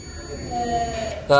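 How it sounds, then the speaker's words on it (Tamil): A multimeter gives a steady continuity beep while its probes test a ceiling fan motor coil, a thin sustained tone under someone speaking nearby. "அப்படி சவுண்டு வரணும் பீப் சவுண்டு"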